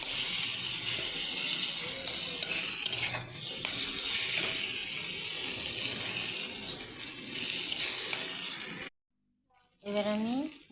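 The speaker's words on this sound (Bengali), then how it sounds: "টমেটোটা দিয়ে একটু ভালো করে মশলাটা কষিয়ে নেব।" Spiced paste with tomato stir-fried for a home-style chicken curry, a steady close sizzle with scraping stirs that runs for most of the clip before a brief silence and then a voice.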